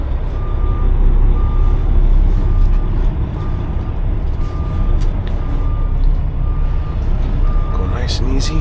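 A truck reverses slowly during a telehandler delivery in Toronto, its backup alarm beeping in a steady, evenly spaced rhythm over a loud, continuous diesel engine rumble, with a voice speaking now and then.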